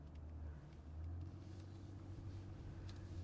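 Steady low rumble of a Mercedes-AMG S65 V12 engine while driving, muffled and even throughout, as heard from inside the cabin.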